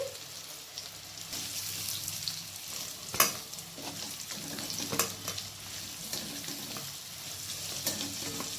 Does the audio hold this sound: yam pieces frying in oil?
yes